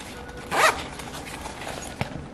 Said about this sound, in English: You have another zipper right here that's really big.